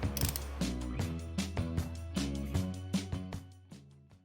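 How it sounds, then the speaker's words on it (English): A ratchet clicks in quick bursts while torquing engine bolts on an Audi A6 during an engine rebuild, close and loud, with rhythmic pawl clicks and short pauses between strokes. "So I'm going to torque each and every bolt"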